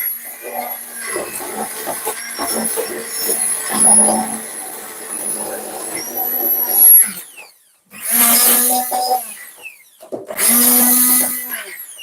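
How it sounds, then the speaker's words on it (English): A stick blender purees cauliflower carrot soup in a pot, a loud continuous whirring grind that cuts out briefly and restarts in short bursts toward the end. "I'm just trying to put the blender, the stick, over some of the cauliflower, which are a little bit big."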